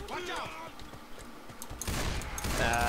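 Left 4 Dead 2 video game gunfire, scattered shots that build into a loud, dense volley near the end, heard under voices talking.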